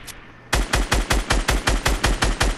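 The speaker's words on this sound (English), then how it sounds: "Okay, I'm shooting." Rapid gunfire in the video game Fortnite, about a dozen evenly spaced loud shots fired in a steady, quick rhythm after a short quiet start.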